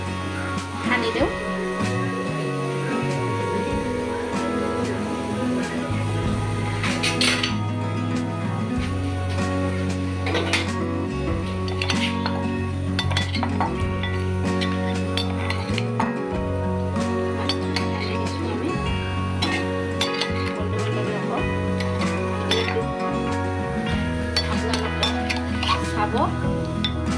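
Fish is stirred in a hot wok, with frequent metallic clinks and scrapes of a utensil against the pan over a steady low cooking hum, repeated throughout at close range.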